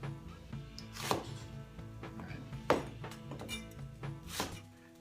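A kitchen knife chops an onion on a cutting board in a quiet kitchen, with a few firm, irregular thunks standing out over softer cutting sounds.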